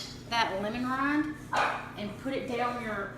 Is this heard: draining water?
no